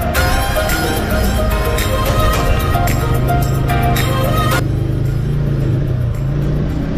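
A motorbike rides through city traffic in Saltlake with a continuous close engine drone and wind rush. Passing vehicles and a brief higher whine fade out partway through.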